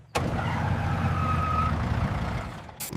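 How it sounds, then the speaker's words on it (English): Cartoon truck engine rumbling loud and steady for a few seconds, a low throaty drone with a faint whine, starting abruptly and tapering off near the end. "I'm truck. I say brum brum. I carry heavy things."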